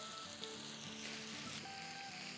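Chicken thigh pieces sizzle steadily on a hot tawa over medium-high heat as they are mixed, a continuous bright frying hiss with faint scraping, close and alone without talk.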